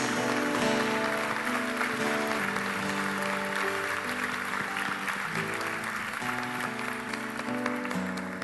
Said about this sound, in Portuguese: Aplauda o Senhor com alegria, Ele é digno.